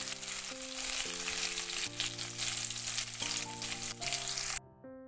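One onion fries in oil in a pan for a lentil and tomato curry, a steady bright sizzle, close and continuous, with background music and no talk.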